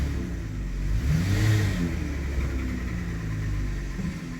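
A car decelerating under engine braking while driving, its steady mid-low engine drone shifting in pitch as it slows, with a brief rise and then an even hum continuing alone.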